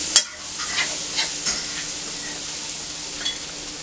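Texas toast on a hot griddle gives a steady, even sizzle with a few faint scraping clicks, close and alone.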